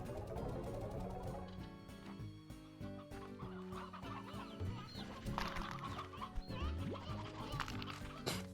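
Chickens clucking in the farming video game Slime Rancher 2, a dense overlapping flock of clucks and squawks layered over busy game music and effects, continuous and loud throughout.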